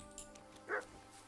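In the video game Kingdom Come: Deliverance II, a dog gives a single short bark at mid-distance, faint against a quiet background, with a few soft ticks around it.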